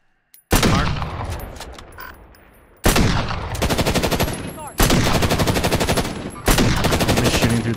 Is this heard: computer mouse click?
no